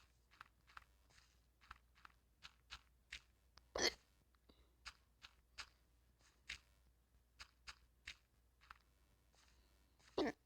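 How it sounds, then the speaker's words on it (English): A person hiccups repeatedly, sharp short bursts spaced every half second or so, two louder jolts standing out, close and alone in a quiet room. "I keep having the hiccups."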